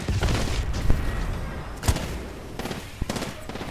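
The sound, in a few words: Hemlok weapon firing in video game Titanfall 2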